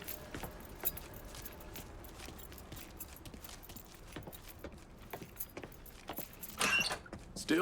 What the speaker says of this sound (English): Hey, man, grab those keys.